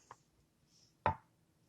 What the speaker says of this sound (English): I'm still cutting up my sausages.